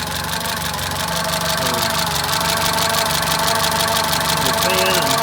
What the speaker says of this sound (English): it just fired right up. Idle like a beautiful engine.